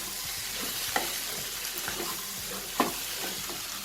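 Egg tarka mixture stirred in a pan, a quiet background sizzle with a few sparse spatula clicks and scrapes, two of them sharper, heard alone without talking.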